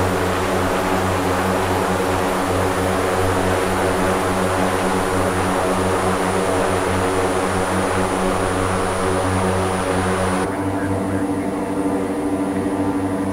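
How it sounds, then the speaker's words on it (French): An OV-10 Bronco propeller aircraft cruising in flight in Microsoft Flight Simulator gives a steady, loud, unbroken engine drone throughout, and its tone shifts and thins slightly near the end. "Un avion assez rapide pour des capacités de décollage et atterrissage court."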